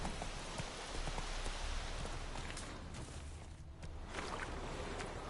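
Horse hooves beat steadily throughout, a continuous rumbling clatter of galloping in The Witcher 3, up close and fairly loud over a broad rushing noise with no talk.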